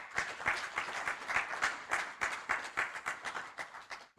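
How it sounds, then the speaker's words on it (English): Sustained audience applause at an annual general meeting, many hands clapping densely and steadily for about four seconds with no talk, fading out at the end. "I would like all the advisors to give themselves a big round of applause."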